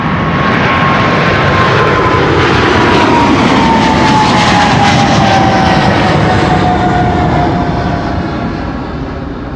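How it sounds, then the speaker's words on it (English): A KLM Boeing 777-300 jet takes off from Amsterdam Schiphol's Kaagbaan runway, its loud, broad engine roar with a slowly falling whine holding strong and steady before starting to fade. "KLM flight 591 to Johannesburg, South Africa. 777-300"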